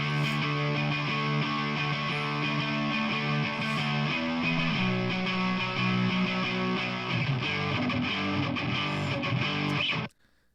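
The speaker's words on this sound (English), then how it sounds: "pretty straight up power chord bass" Distorted bass playing straight power chords in a pop-rock production, a thick, buzzy wall of sustained chords shifting every couple of seconds for about ten seconds before cutting off abruptly, loud with no voices.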